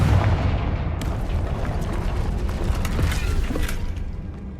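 A Confringo explosive spell blast in Hogwarts Legacy during a final boss battle: a dense rumbling crackle of impacts with several sharp bursts, steady and loud throughout, fading slightly at the end.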